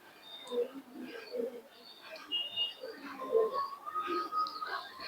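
Pigeons at a pigeon sale giving soft, repeated low coos and a few chirps close by, with people talking faintly in the background.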